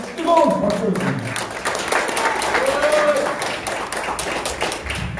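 Crowd clapping at a street rally outside Gangnam Station, with scattered hand claps spreading through the gathering while voices and talking carry on over them.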